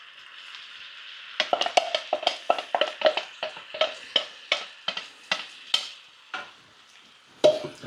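Blitzed tomatoes are stirred into a chicken and chorizo jambalaya in a frying pan, with a long run of rhythmic scraping, clacking strokes of a utensil over a faint background sizzle.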